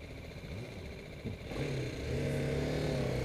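A BMW G310R motorcycle's single-cylinder 34 hp engine idles and then revs up, the tone climbing and steadying, fairly close with a rough mechanical rattle.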